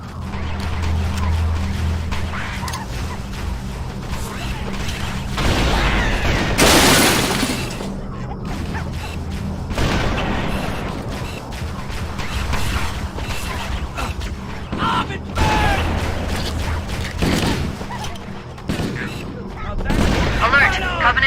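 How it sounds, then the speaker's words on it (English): Gunfire crackles through a Halo video game battle against Covenant forces, with bursts of shots, creaking mechanical clatter and sharp blasts over a steady rumble, while voices call out throughout. "those freaking guns have us pinned down"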